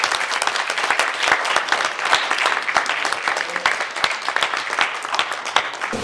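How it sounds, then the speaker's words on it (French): An audience applauds a contestant at a special-effects makeup competition, with brisk, crisp clapping from a modest crowd that stays lively and even throughout, individual sharp claps standing out close by. "applaudissez-le"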